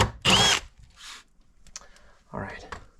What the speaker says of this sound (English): Always, obviously, make sure you drill on this right settings. I like having it at high speed, and just drill through.